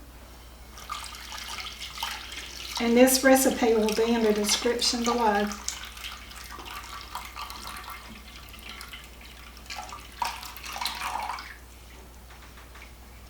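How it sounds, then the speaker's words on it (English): Hot water from a kettle pours onto strawberry jello powder in a bowl, a splashing, gurgling stream for a few seconds, with someone talking before and after. "I'm going to be pouring in my water,"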